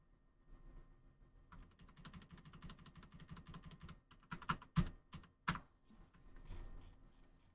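Hotkeys are tapped on a computer keyboard during video editing, a fast run of close, quiet clicks followed by a few sharper, louder key presses, with no talking.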